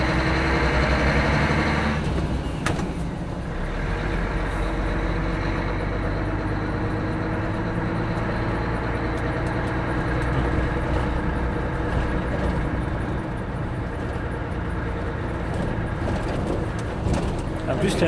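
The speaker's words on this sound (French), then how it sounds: "Ah ouais, la petite pétarade." An old truck engine runs steadily at close range with a deep low rumble, with a burst of popping backfire near the start; people talk over it throughout.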